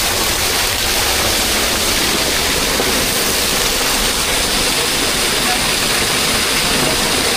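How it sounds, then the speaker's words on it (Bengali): Lalghat waterfall roars with a dense, constant rush of falling water, loud and close, filling the whole stretch without pause. "এটা হলো শুধু ঝর্ণা"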